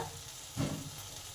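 Cashews and raisins fry in a pan for a no-onion, no-garlic papaya ghonto, a soft, quiet sizzle with a brief scrape of stirring partway through.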